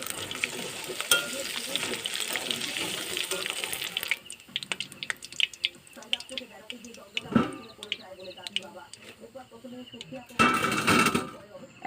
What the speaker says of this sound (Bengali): পকোড়াগুলো দেখুন আমার লাল লাল করে ভাজা হয়ে গেছে।